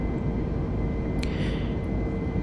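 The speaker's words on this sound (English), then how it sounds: "the sounds of the jets on the airplane of the turbines" A steady, loud broadband roar of jet airplane turbines in a flight simulator game fills the clip like constant white noise, with a brief faint click partway through.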